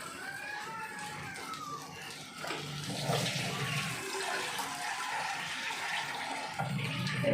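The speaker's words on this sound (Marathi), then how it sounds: "हे बघा, पाणी टाकते मी याच्यामध्ये." Water pours steadily into a pot of roasted rice seasoned with red chili chutney and salt, a hissing, splashing rush that swells after a couple of seconds and runs on without a break.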